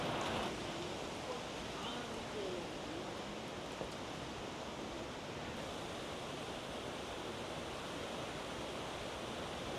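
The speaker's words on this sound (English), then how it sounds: "it has poured rain" Steady, dense hiss of heavy thunderstorm rain pouring down at an airport, a constant broadband wash with no pauses throughout.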